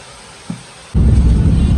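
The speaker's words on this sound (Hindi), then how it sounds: "बाहर हो रही है बहुत सारी बारिश" Heavy rain falls outside on a Sunday, starting suddenly as a loud, steady broadband roar after a quiet stretch with one brief soft bump, then continuing without letup.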